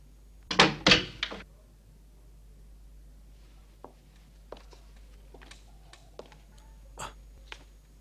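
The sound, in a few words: door sound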